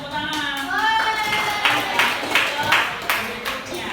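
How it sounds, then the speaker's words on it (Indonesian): Classroom applause for a fifth-grade student after a presentation, scattered claps rising over about three seconds with children's chatter and voices mixed in, moderately loud and close. "yuk beri tepuk tangan"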